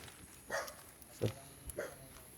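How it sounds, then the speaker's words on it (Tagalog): Dog barking near a house in the mountains, three distinct barks spaced out over a couple of seconds, moderately close and fairly faint against a quiet background. "Tapang ng aso."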